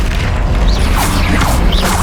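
The Confringo explosive spell is cast in Hogwarts Legacy, heard as a steady loud blast with booming, crashing rumble and whooshing magical streaks, and no talking.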